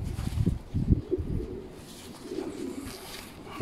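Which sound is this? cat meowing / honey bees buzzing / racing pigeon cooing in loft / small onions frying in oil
racing pigeon cooing in loft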